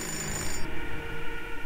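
An in-game telephone rings in the video game Fahrenheit, a steady electronic ring tone that cuts off partway through, followed by ambient game background sound.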